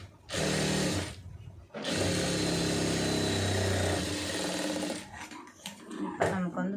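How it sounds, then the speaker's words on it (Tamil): A sewing machine runs fast and steady while stitching a second folded seam on a pencil-fit garment, two long bursts of motor whirr broken by a short pause, then slowing into stops and starts. "அப்படியே மடிச்சு தையல் அதாவது ரெண்டாவது தையல்"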